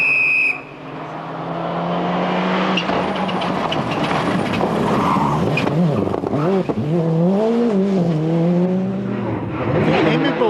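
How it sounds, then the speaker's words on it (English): A World Rally car on a stage of the 2001 Tour de Luxembourg Rally. Its engine roars loud and close, pitch sweeping up and down through repeated revs and gear changes for the whole stretch. "Hans Stacey, is certainly getting the hang of his World Rally car"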